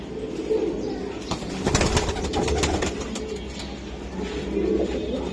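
Giribaz high-flying racing pigeons coo softly in a steady low murmur, with a few brief flutters of wings in the middle; the birds sound close, and no one talks over them.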